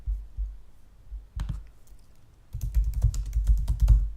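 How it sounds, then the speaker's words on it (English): Keys clack on a computer keyboard as a search query is typed, with a short early burst followed by a denser run of quick, close clicks, alone without talk. "I'm going to type in button styles into the search field"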